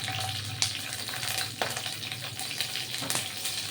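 Panch phoron and dried chillies crackle in hot oil with a dense, steady sizzle, broken by a few sharper pops and stirring scrapes, close and without talk.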